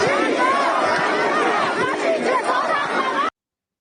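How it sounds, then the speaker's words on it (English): Street protest crowd in Iran's holiest city chanting in support of King Reza Pahlavi, a loud, unbroken swell of massed voices chanting together, close and steady before cutting off suddenly. "And the crowd starts saying King Reza Pahlavi"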